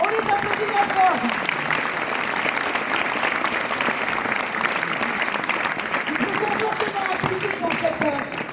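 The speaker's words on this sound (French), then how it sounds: "on les applaudit bien fort" Steady, dense applause from a crowd at a political rally in Cahors, sustained clapping throughout with a voice talking faintly in the background.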